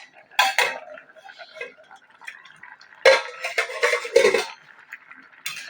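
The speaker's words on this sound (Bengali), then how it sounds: "এবার আমি ঢাকনাটা খুলে দেখব।" A lid is lifted off a metal cooking pot of simmering greens and vegetables, with a few loud, close clanks and rattles in two separate bursts amid quiet gaps.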